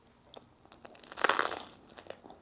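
Close, loud crunching as someone bites into a crisp-crusted pizza topped with chili pepper, meatballs and red onion, a cluster of brittle cracks peaking mid-bite then fading into softer chewing, with no speech.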